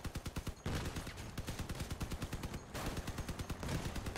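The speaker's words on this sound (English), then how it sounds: "I also heard an autocannon just now." Autocannon firing in the vehicle combat game Crossout, a sustained rapid rhythmic burst of loud punchy shots that pauses briefly, then continues steadily, close and without speech.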